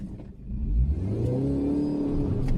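A Mini Cooper S R53 accelerates hard on a wet road with its wheels spinning, the engine rising in a loud, steady, close roar that climbs in pitch.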